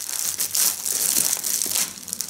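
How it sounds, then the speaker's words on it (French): Crinkly plastic rustling as bubble wrap is pulled off a parcel, close and continuous with soft crackles and brief louder crumples throughout. "Oula, il y a du papier bulle."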